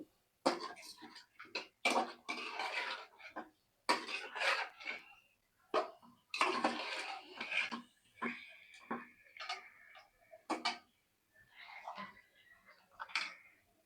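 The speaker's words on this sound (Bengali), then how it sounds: "একটু নাড়া দিয়ে নিই।" Metal spoon scraping and knocking around a pot of chicken curry with potato and papaya, in an irregular run of close, fairly loud strokes with short pauses between them.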